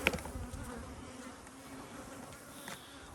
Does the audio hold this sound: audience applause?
no